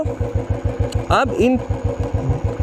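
Royal Enfield motorcycle engine idles with a steady, rhythmic thump and gets a light rev, close and prominent while someone speaks over it.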